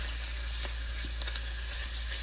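Garlic sizzling in hot oil for a shrimp stir fry, a steady close frying hiss with faint crackles and light stirring throughout.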